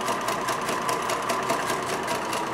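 A sewing machine runs fast and steadily while stitching a backstitch seam on a drawstring bag, with a continuous close mechanical whir and a rapid needle chatter that never pauses.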